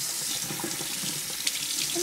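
Tap water runs steadily into a sink while soap is rinsed from a hand, a close, continuous splashing flow with a small knock partway through and no talk.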